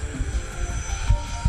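An RC model jet, an FMS Rafale or Freewing Gripen, drones steadily overhead, a continuous whine with slight swells in loudness, fairly close and without voices.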